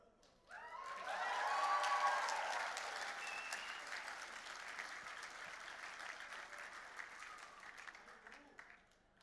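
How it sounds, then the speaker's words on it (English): A graduation ceremony audience at Victoria University in Melbourne bursts into sustained applause and cheering that swells loudly in the first seconds, then settles into steady clapping before fading out near the end. "If you don't clap and cheer loudly enough, you don't get invited back."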